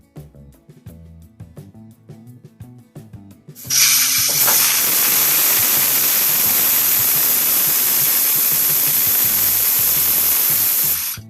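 A pressure cooker on a gas stove bursts into a loud, steady hissing whistle that holds for several seconds, preceded by quieter clinking kitchen sounds.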